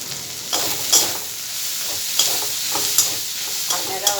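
Lati fish skewers sizzle steadily in a hot pan as chopped culantro leaves are added, with a constant frying hiss and periodic clinks and scrapes of stirring.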